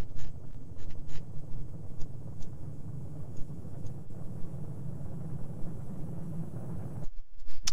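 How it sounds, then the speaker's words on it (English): A spacecraft pod without an engine re-enters the atmosphere in the video game Kerbal Space Program. It makes a steady, soft, wind-like rushing roar that cuts off abruptly near the end. "Oh, I hear some re-entry effects."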